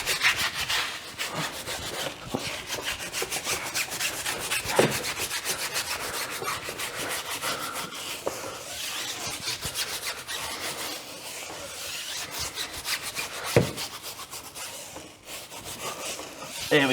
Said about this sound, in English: you can just get a good scrub on all the tyres